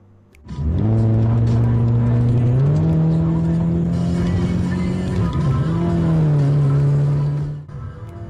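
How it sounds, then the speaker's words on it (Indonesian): A tuned car exhaust revs loud and close, its engine note climbing in steps and holding a steady roar for several seconds before dropping away, with faint voices barely audible underneath. "Oh, suara knalpot ya"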